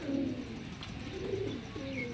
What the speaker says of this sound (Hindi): नोकों के ये कबूतर हैं भाईजन